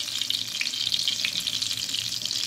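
Eggplant slices fry steadily in a pan, a dense continuous sizzle with crackling spatters throughout, close and fairly loud, with no voices.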